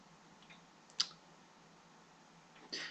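Two sharp computer mouse clicks sound about two seconds apart while a navigation menu is used, close and crisp against a quiet background hiss, with no talking.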